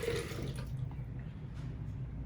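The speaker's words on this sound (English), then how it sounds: "Now holding it with one hand, you should be able to dump your water." Water poured out of a flower vase, a short splashing gush at the start that quickly tapers into faint trickling and drips.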